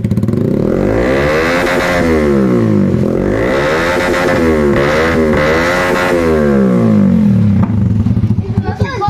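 A 125cc motorcycle fitted with an aftermarket exhaust pipe revs loudly in repeated rising and falling bursts, a raspy, layered engine note close to the microphone with some clatter.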